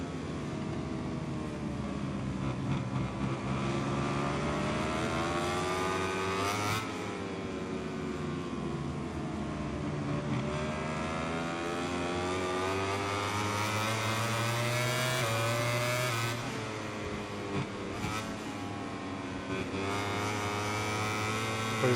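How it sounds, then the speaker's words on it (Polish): A racing motorcycle engine in the MotoGP 21 video game, Portugal round, whines steadily at high revs with rising and falling pitch through gear changes, loud and continuous throughout. "Ale tutaj pojadę sobie za Jorge Martinem"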